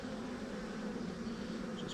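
Dense, steady drone of many honeybees swarming over an open hive frame in a beeyard, a continuous low hum close by with no talk.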